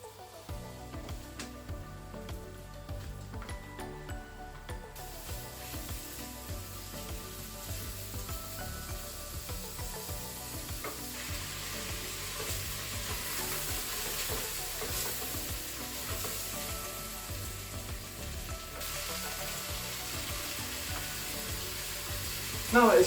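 Bacon sizzles in a Crockpot Express pot over lightly toasted risotto rice, a steady, close frying hiss with occasional stirring scrapes that runs unbroken throughout.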